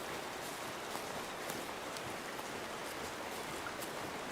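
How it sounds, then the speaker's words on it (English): Steady rain falls across an outdoor hunting landscape in the video game Way of the Hunter 2, a dense, even hiss of drops on the ground with no voices. "In theory, the rain would help mask our scent and our noise."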